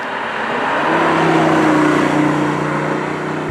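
A 2019 BMW i8 cruising at normal speed in comfort mode, a smooth steady engine hum that swells slightly in the middle and then settles.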